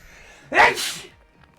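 A single sharp sneeze bursts out close by, short and forceful, in an otherwise quiet room.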